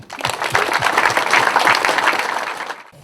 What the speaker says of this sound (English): So round of applause for Bendex.